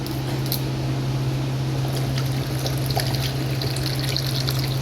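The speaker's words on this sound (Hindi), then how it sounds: "अच्छा पानी निकल रहा है ना" Water pours steadily out of a freshly cut coconut, opened from the top, in a continuous trickling stream that runs without pause, close by and alone, over a constant low hum.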